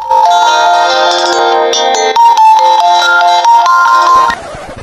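A loud, melodic phone ringtone plays continuously for several seconds with a repeating tonal pattern, then cuts off abruptly, leaving faint room noise.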